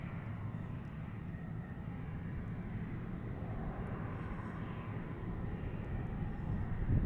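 A Goshawk military jet trainer at Tucson International Airport gives a continuous low rumbling jet roar, steady and moderately loud, building a little toward the close.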